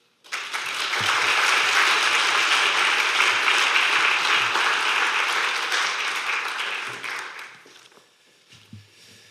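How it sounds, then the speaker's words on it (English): A lecture audience gives sustained, dense applause that swells quickly, holds strong for several seconds, then thins out to a few scattered claps at the end. "So please join me in giving a huge applause to the team"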